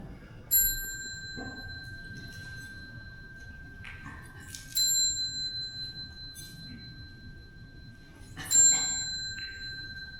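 A temple bell in a Buddhist meditation hall rings three times, each strike a clear, sustained metallic ring that hangs and slowly decays over a quiet room, spaced about four seconds apart.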